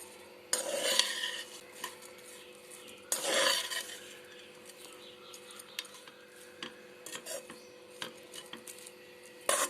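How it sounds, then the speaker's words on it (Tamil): Beetroot rice with spices being stirred together in a pan, a spoon scraping and clinking against the metal in a few distinct strokes with quieter rubbing and faint sizzle between them. "இப்போ நம்ம எல்லாத்தையும் ஒன்றா கிளறி விட்டுருங்க"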